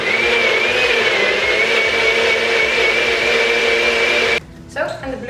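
A blender whirs loud and steady, mixing blueberries, vanilla and almond milk into a smoothie, before cutting off abruptly near the end, leaving a quieter room.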